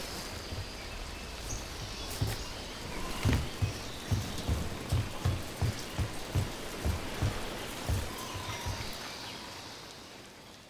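Steady rain falls in the video game Dragon Age, a constant wash of droplets with a run of rhythmic soft thuds partway through and no voices.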